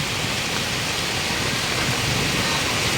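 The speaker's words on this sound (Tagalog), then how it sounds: "hindi tumigil ang ulan sa ganitong kalakas" Heavy rain pours in a dense, constant roar, loud and close, with no pauses and no voices, as floodwater turns a road into a river.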